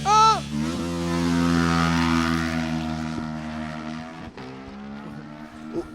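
A Yamaha R7 race motorcycle launches from the start line, its engine revving high and sustained as it pulls away, then tapering as it moves off into the distance.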